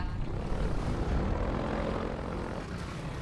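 The airboat engine in the video game Half-Life 2 roars steadily and loudly, a dense, continuous propeller-engine drone that stays close and even for the whole stretch with no speech over it.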